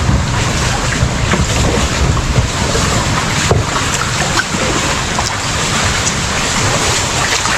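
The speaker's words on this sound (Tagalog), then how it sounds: "Sumasayad po itong bangka." A wooden bangka is pushed through very shallow water, scraping along the bottom, with a continuous loud wash of water and strong wind buffeting the microphone the whole time.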